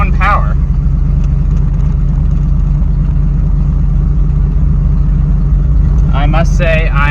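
A car's engine runs steadily after an emergency engine swap, moving under its own power for the first time in months, with a constant low rumble throughout and brief voices at the start and end.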